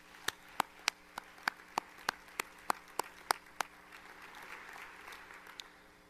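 Clapping at a Grayson College spring commencement ceremony: about a dozen sharp, evenly spaced claps ring out close by, then trail into a soft, distant wash of crowd applause.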